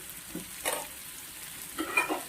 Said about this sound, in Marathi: अशा पद्धतीने हलवून घ्यायचं आहे